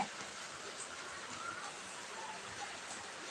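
Steady broadband hiss of rain falling, even and unbroken, with faint indistinct sounds underneath.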